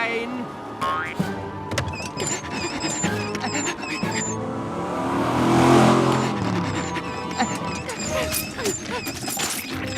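Cartoon race cars rev up with a swelling engine roar that peaks in the middle and fades. Springy comic sound effects and bright music play around it, and voices talk over the scene.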